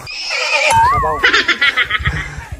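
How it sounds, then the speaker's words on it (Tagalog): A white horse gives a loud, wavering whinny up close, followed by a few shorter snorting neighs. "Horse yan."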